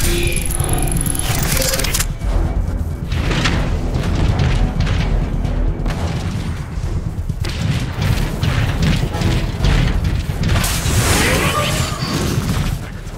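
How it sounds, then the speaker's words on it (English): Heavy artillery strike explosions boom and rumble continuously in Transformers: Fall of Cybertron, with deep thuds, whooshes and debris, while voices talk over the barrage. "Still have control over the city's artillery. A strike should help clear the way."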